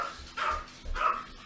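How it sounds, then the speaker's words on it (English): A Yorkie and two Chihuahua rescue dogs barking indoors, two short yappy bursts about half a second apart, fairly close and clear. "those are all my rescue dogs that bark anytime somebody even gets up"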